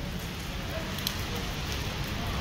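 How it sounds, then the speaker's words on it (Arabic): Rain falls in Amsterdam as a steady, even hiss that fills the scene without pause, moderately loud and close by, with no distinct drops or voices standing out. "شوف الشتا شوف"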